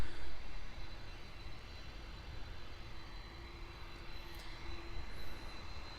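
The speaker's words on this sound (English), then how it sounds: "we already have the Kalita Air 747-400 freighter already lining up on runway 9er" Kalitta Air Boeing 747-400 freighter lining up on a runway at Miami International Airport, a steady broadband jet engine rumble with a faint high whine, constant and moderately distant throughout.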